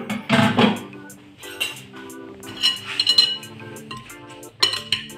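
Octopus and potato salad for a Portuguese-style dish is stirred in a bowl, with repeated clinks and scrapes of utensils against the dish in uneven bursts, heard up close.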